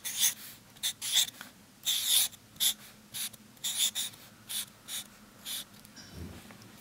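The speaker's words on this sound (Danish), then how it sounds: "Prøv lige at skrive ordene." Pen scratching words onto paper, a series of short, close scribbling strokes in an irregular rhythm, each burst of writing separated by brief pauses, with no talk.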